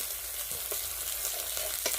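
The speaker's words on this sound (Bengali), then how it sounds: "এখন আমি এখানে যে বাকিগুলো ভাজছি এখানে কয়েকটা বড় বড় ভাজতেছি" Food sizzles in a frying pan in a home kitchen, where several large pieces are being fried. A steady, moderately loud hiss is broken by a few brief stirring or clinking sounds, and no one speaks.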